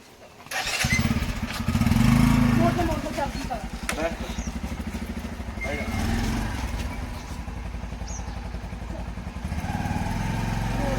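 A motorcycle engine starts and runs with a rapid, steady, thumping putter close by, continuing throughout in a rural Punjabi setting while people talk over it.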